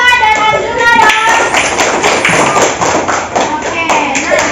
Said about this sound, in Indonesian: Tepuk tangan untuk Alisa dan Arjuna dong.